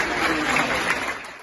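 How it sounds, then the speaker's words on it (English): A crowd applauds and cheers for international rescue teams in Turkey as search operations end after the 7.8 magnitude earthquake; a dense, steady wash of clapping that fades slightly at the end. "Applause and cheers for international rescue teams"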